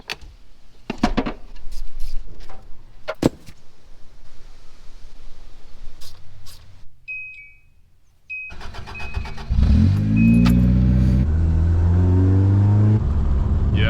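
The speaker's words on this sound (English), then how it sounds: "it just misses and sputters at part throttle" Carbureted Toyota AE86 engine running rough at part throttle, with uneven popping and misfiring bursts early on, a quieter stretch, then a loud, steady close-up engine roar in the final seconds.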